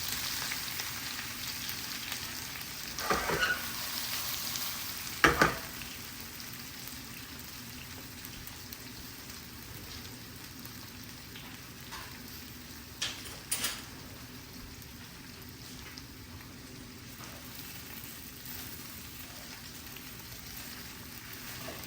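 Kale muthiya frying in ghee with green chillies, a steady soft sizzle throughout with a few louder crackling bursts and clanks early on as pieces go into the pan.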